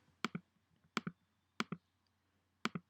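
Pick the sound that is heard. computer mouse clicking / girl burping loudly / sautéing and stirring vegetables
computer mouse clicking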